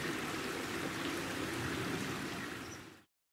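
The River Mole flows near Box Hill in Surrey, where it cuts through the chalk of the North Downs. The water gives a steady, soft trickling rush that cuts off abruptly at the end.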